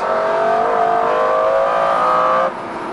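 McLaren F1 road car engine pulling hard, a loud, near, rising high-pitched howl that builds smoothly before the tone suddenly drops as the revs fall.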